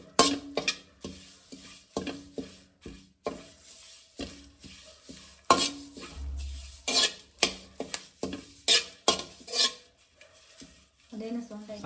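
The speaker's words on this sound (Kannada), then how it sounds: "ಕರಿಬೇವಿನ ಸೊಪ್ಪು ಕೂಡ ಫ್ರೈ ಆಗ್ತಾಯಿದೆ." Curry leaves and spices fry on a low flame for wedding-style sambar powder while a spatula stirs in repeated rhythmic scraping strokes against the pan, with a soft sizzle between strokes.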